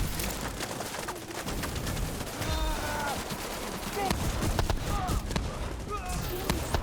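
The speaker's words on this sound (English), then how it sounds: "I'm gonna just shoot at it, just so it's kind of marked." Rapid gunfire from a video game aimed at a turret, dense crackling bursts sustained throughout, mixed with chirpy game effects and background voices.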